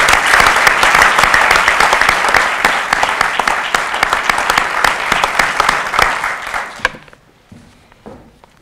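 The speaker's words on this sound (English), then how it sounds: "A round of applause, please, for Liz Wallace." An audience at a police awards ceremony applauds in dense, loud clapping that holds for several seconds, then thins out abruptly into a few scattered claps and quiet.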